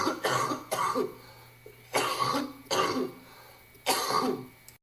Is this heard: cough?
yes